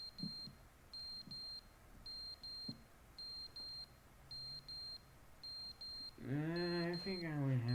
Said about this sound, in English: Oh, I think it's an alarm.